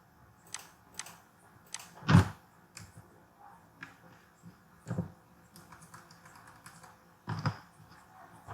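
Keys clack on a computer keyboard while someone writes a CSS style file for a web page, scattered taps with a few louder strikes, close and fairly quiet, no voice.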